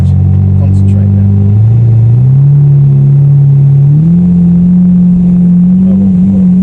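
A Lamborghini Murcielago SV engine pulls hard on a fast road drive, droning loud and close as its pitch steps up through the revs, with talk over it.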